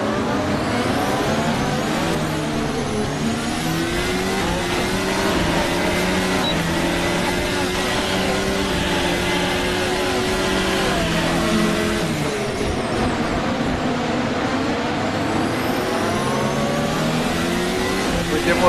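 Formula 1 race cars roar around the Bahrain circuit in the Assetto Corsa video game, loud overlapping engines revving and shifting continuously, with pitch sweeping up and down as the cars jostle in a pack.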